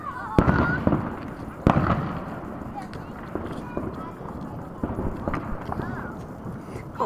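Fourth of July fireworks burst with loud, sharp bangs, two big detonations early on followed by scattered smaller crackles and pops, with people talking and reacting throughout.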